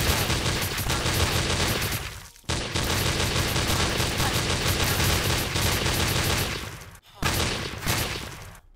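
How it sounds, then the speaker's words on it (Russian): Rapid automatic submachine gun fire in a Fortnite-style Minecraft game, loud and sustained in long continuous bursts with two brief pauses. "А, например, submachine gun. Это у нас уже реально пулемет."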